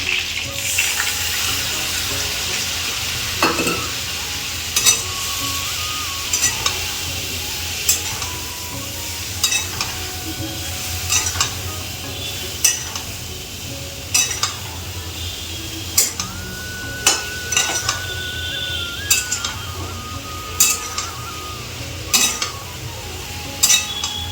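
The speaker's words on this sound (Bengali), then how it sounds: "এবার আমি মশলা দিয়ে ভালো করে কষাবো" Sustained sizzling of spices, cauliflower and potato frying with fish in a pan, with repeated scraping and clinks of a spatula stirring at an irregular pace, close up.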